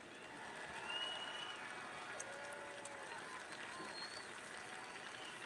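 A convention audience at the RNC applauds, a faint, steady wash of clapping and crowd noise that carries on throughout.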